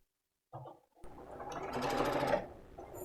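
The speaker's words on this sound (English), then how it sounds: "I've sewed to the edge of my cut piece" A sewing machine stitches fabric for a quilt block. A short burst is followed by a pause, then a steady close whirring run that holds for about two seconds.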